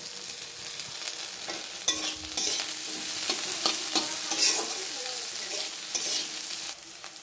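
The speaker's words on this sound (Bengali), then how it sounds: "দিয়ে একটু ভেজে নেব" Grated ginger sizzling in hot oil with cashews and raisins in a pan for vegetable dal, a steady bright frying hiss with occasional clinks and scrapes of a stirring spoon, close up.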